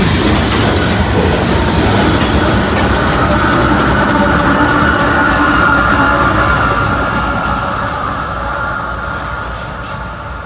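A freight train with a distributed power unit rolls past close by, a loud steady rumble of wheels and clattering cars that holds for most of the stretch and eases slightly toward the end.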